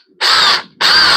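A power drill bores a hole in two loud, close bursts of whining, each roughly half a second, separated by a short pause, with no talking.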